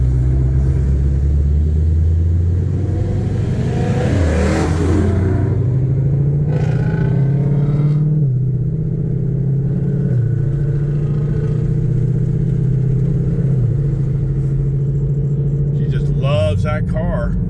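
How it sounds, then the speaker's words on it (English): A car idles with a low exhaust rumble at a Sunday morning car meet, swelling into a couple of revs while someone talks over it nearby. "So let's see if we can get some exhaust out of it."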